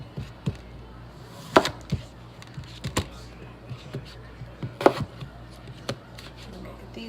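A knife chops potatoes and carrots on a cutting board for corned beef, giving irregular close taps and thuds spaced about a second apart, with a few louder knocks, over a faint background hum.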